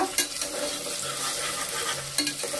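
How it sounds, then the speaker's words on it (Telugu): Mutton trotters frying in a pan with ginger garlic paste, a bright loud sizzle with quick stirring scrapes at the start and end. "దాని తర్వాత ఈ కాలు వేస్తాం. దీనికి కొంచెం వేయించుతాము."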